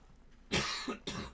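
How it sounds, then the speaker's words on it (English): Two harsh coughs, the first longer and the second shorter, close to the microphone against a quiet background. "Sorry about the cough again."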